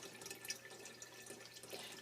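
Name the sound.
bleach water draining off Fuji FP-100C negative into reservoir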